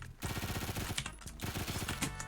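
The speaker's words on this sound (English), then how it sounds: "this gun is the MP5K. Now, this is the starter SMG, or PDW, and it kind of does just go hard." An MP5K submachine gun fires in Roblox Phantom Forces, several rapid full-auto bursts with a fast, even crackle of shots and brief gaps between strings.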